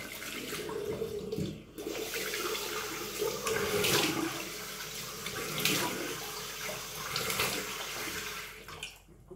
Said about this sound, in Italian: Allora, sciacquiamo. Sciacquiamo il viso.